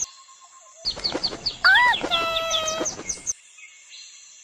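Several chicks chirp in quick, high peeps, bunching into a busy burst of overlapping cheeps before fading to quiet.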